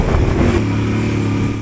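Yamaha Tenere 700 motorcycle under hard throttle climbing a dirt track with small jumps, a loud, close engine roar that holds steady for a moment before easing off slightly at the end.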